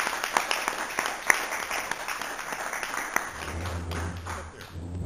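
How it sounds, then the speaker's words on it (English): Applause from the audience at a city council meeting, a dense crowd of clapping hands that fills the room with a steady patter before thinning near the end. "A round of applause."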